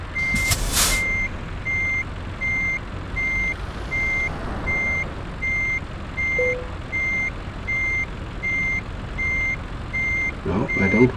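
Reversing beeps from a truck backing a trailer into a parking spot in Euro Truck Simulator 2, a regular series of evenly spaced electronic tones over a low engine drone, with a short hiss of air near the start.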